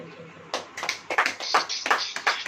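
A church congregation claps during a sermon, a run of sharp, uneven hand claps that cluster into bursts and are heard fairly close.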